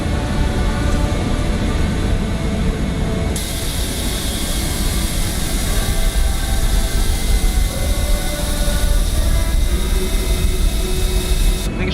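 Steady, loud roar of a wide-body airliner's engines in Microsoft Flight Simulator 2020, a dense broadband drone with a high whine that holds unbroken throughout with no talk over it.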